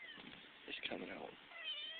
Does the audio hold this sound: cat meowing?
yes